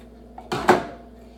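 A baking pan is handled while being greased with Crisco in a kitchen, giving two close, brief metallic clatters over a quiet room hum.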